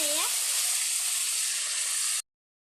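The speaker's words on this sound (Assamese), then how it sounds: "আমাৰ মাংস ভাজা হৈ গ'ল। আমি পানী দিম।" Water is poured into a pot of fried meat, which bursts into a loud, continuous hiss and sizzle that holds steady for about two seconds and then stops abruptly.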